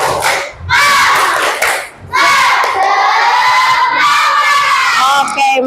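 A class of elementary school children shouts a rhythmic group cheer chant together in a classroom, loud and close, in repeated bursts with short pauses between the lines.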